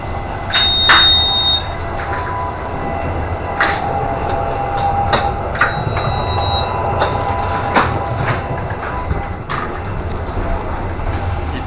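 Steady rumble and clatter inside a moving passenger train carriage, with intermittent wheel clicks and brief high squeals over a constant low roar; no one speaks.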